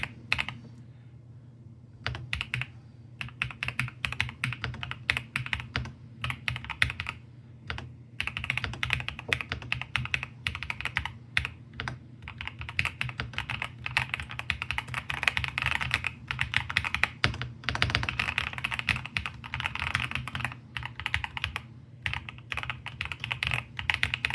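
Steady, rapid clicking of a Hator Skyfall 80 TKL mechanical keyboard being typed on, close and continuous, with uneven rhythm and short pauses between bursts.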